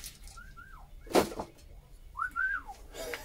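A person whistles two short rising-and-falling phrases, then a longer swooping one, close and clear over quiet background with a brief clatter between them.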